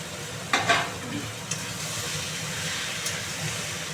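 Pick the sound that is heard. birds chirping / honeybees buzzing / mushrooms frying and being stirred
mushrooms frying and being stirred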